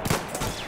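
Single gunshot in Battlefield 1, heard as a brief, muffled crack that stands alone.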